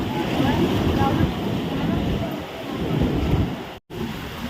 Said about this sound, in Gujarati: કેવા મોજા ઉછળે છે.